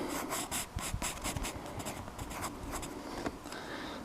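A pencil moving over paper makes soft, close scratchy strokes in quick bursts and short pauses, quiet and steady throughout.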